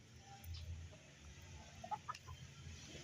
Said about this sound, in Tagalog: Ito ang ating mga manok.